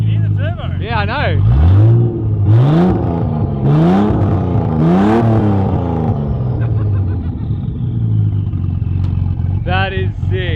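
A turbocharged SOHC Ford Fairlane engine revs repeatedly, with loud rising and falling surges over a steady idle and a faint turbo whine throughout, while people talk nearby.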